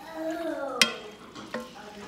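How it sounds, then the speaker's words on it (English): A spoon stirs a pot of soup with two bay leaves in it, making two sharp clinks against the pot over a soft background hum. "Gonna stir this together."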